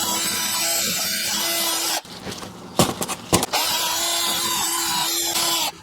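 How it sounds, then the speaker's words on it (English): A power tool's wire wheel scours rust off a brake caliper bracket from a 2021 Kia Telluride, a loud, continuous whirring grind that cuts out briefly mid-way with a few clanks before spinning up again. "Here I'm going to use a wire wheel again."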